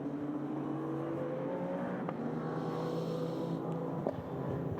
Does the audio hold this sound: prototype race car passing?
yes